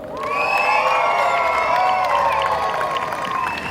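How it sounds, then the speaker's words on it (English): A crowd of children and adults cheers loudly for a youth group at a community event, with sustained shouting, whoops and clapping that swell quickly and hold at full volume, close and continuous. "put your hands together and let's cheer the youth of Odlem"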